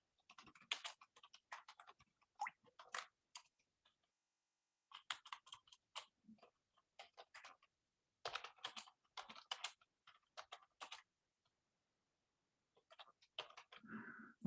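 Typing of Haskell code on a computer keyboard in quiet bursts of rapid clicking keystrokes, broken by several pauses, close and soft with no talking.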